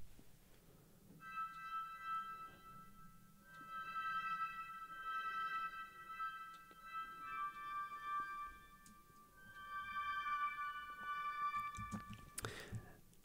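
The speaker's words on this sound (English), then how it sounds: "And then we bring in a pedal pulse." A pulsing string pedal from a Heavyocity string library repeats short, bright notes in a steady rhythm. It plays quietly in a soft, sparse orchestral texture.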